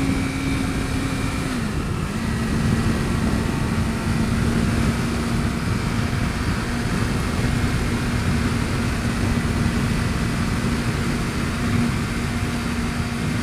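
A 2011 Suzuki GSX-R600 motorcycle engine held at high revs at speed on a road, a loud continuous whining drone with rushing wind, the pitch dipping briefly then holding steady.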